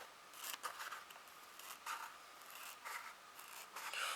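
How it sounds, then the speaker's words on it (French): Scissors snip through a strip of paper while making a small Easter house decoration, a run of close, crisp cutting strokes in quick irregular bursts with no talking. "Donc, je coupe la première bande."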